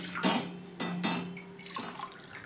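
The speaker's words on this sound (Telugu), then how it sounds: "నేనైతే 1 గ్లాసు వాటర్ వేస్తున్నాను." Water poured from a glass into a cooking pot for making dry ginger and pepper coffee with jaggery, heard as a few short splashing pours with brief pauses between them, nearby and fairly quiet.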